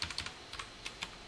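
Code is being typed on a computer keyboard: about a dozen quick, light key clicks in short bursts, close and fairly quiet, with no voices.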